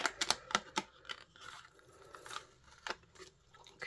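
Scissors snip through card while a shaker-card decoration is being made, a quick burst of crisp close cuts at the start, then a quieter pause and a few more sharp snips.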